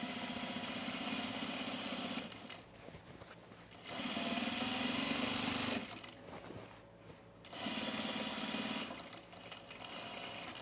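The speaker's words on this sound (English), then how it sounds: "I'm going to press this seam allowance of the center front rise to my right, which would be the left front. And I'm going to top stitch it" A sewing machine topstitches a seam on overalls in three steady bursts of close mechanical whirring, separated by quieter pauses with faint handling sounds.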